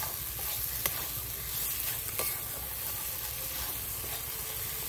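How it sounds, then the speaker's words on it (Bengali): Boiled potatoes stirred and fried in a pan for egg curry, a continuous close sizzle with occasional scraping stirs, steady and without talk. "আলুটা দিয়ে একটু ভালো করে আমি কষিয়ে নেব।"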